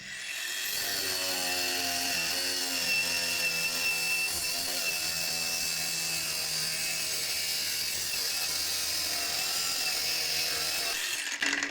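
A WOSAI 21V cordless angle grinder with a 6.0 Ah battery cuts through a pipe, giving a steady, close, high-pitched whine for about eleven seconds that cuts off abruptly.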